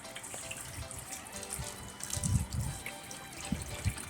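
Fresh water runs and trickles steadily into a trough in a horse stable with a concrete floor, a soft continuous splashing with a few louder dribbles and low thumps, heard alone without talk.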